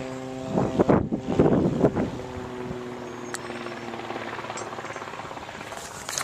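A helicopter descending in a full-down autorotation whooshes loudly at first with pulsing rotor beats, then settles into a steadier, fainter rotor drone in open air.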